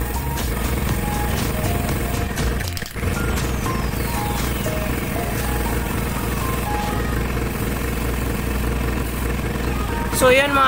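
A motorcycle engine runs steadily and close by while its chain is spray-painted, a continuous hum filling the scene as a person talks over it.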